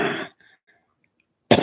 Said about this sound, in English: Hang on, I gotta cough up.